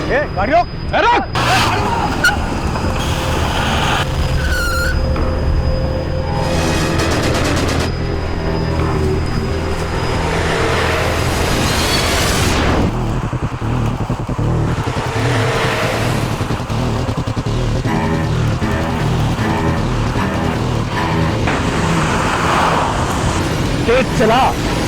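Vehicles driving on a road in a crime drama scene, a steady traffic rumble with engines revving and passing, under tense, urgent dialogue and shifting background noise.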